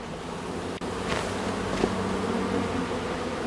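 Honeybees buzz steadily up close around a hive, a dense continuous hum from many insects with no voices.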